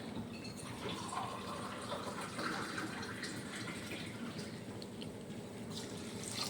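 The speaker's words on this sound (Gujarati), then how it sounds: "આપણી મોરસ ડૂબે એટલું પાણી આપણે નાખવાનું છે" Water is poured over sugar in a pan while making adadiya, a sweet, giving a steady splashing and filling sound with faint drips throughout, fairly quiet and with no voices.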